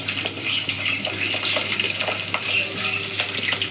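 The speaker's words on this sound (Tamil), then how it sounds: "பூண்டு பச்சை மிளகா நல்லா வதங்கட்டும்" Garlic and green chillies sautéing in oil in a pan for an eggplant kulambu, a steady close sizzle and frying hiss throughout with occasional scrape and stir clicks from a spoon.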